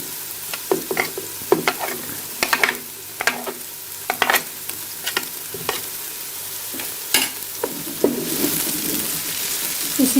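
Carrots and cabbage are stir-fried in a hot pan for vegetable macaroni. A spatula scrapes and clacks in irregular bursts over a soft, continuous sizzle, with no talking.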